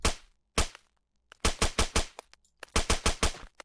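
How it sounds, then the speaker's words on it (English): A suppressed OTs-33 Pernach pistol with a Gemtech silencer fires in the Fallout 4 video game: a couple of single muffled shots, then rapid clusters of crisp, close reports, each stopping abruptly, with silence between bursts. "let's take a listen to me firing it real quick"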